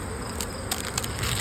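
Honey bees buzz around single brood chamber hives in a backyard apiary, a faint steady hum with a few closer passes, no talking.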